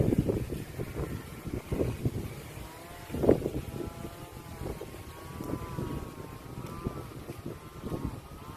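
Strong wind buffets the microphone in rumbling gusts around a rural home in the evening, steady and close, with a faint tonal whine drifting through partway.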